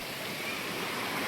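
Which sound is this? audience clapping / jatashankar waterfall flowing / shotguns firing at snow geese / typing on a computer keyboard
jatashankar waterfall flowing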